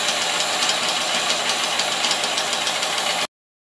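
Loud steady drone of a vacuum pump running as it pumps down a high vacuum chamber, a dense continuous roar with a slight chugging rattle that cuts off abruptly near the end.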